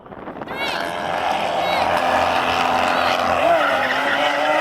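Several Lamborghini Aventador cars roar together in a drag race, a loud sustained engine din with rising tones as gears change, steady and close throughout.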